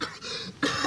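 Two close, harsh coughs a fraction of a second apart, the second sharper and louder.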